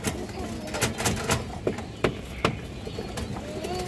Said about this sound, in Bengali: পুরান জাতের অরেঞ্জ চিলা কবুতর মাশাআল্লাহ